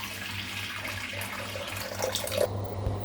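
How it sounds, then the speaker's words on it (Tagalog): Tap water runs steadily into a pot being filled for boiling noodles in a small kitchen, a continuous close splashing rush that shifts slightly near the end. "maglalagay tayo ng tubig."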